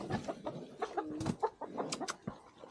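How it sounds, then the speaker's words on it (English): A chicken clucks in short bursts several times at morning feeding time on a farm, moderately near, among other fowl and no talk. "Oh, there's a chicken over there hanging out."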